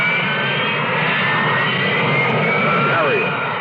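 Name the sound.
Harrier jet aircraft engine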